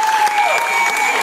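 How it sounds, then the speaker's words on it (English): Applause from an audience for child performers at a kids' talent show in Ghana, a steady dense wash of clapping lasting the whole short moment with some voices mixed in. "Clap for yourselves."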